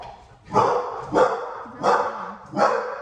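A dog barks four times in a steady rhythm, each bark loud and sharp with short gaps between, fairly close by.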